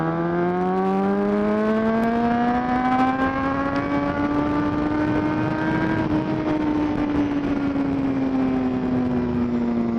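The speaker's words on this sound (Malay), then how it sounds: "Okay, aku tarik, korang tengok pulas throttle aku" An inline-four 600cc motorcycle revs as the throttle is twisted, its engine note rising in pitch, peaking and then easing back, loud and steady over background road noise, with no voices.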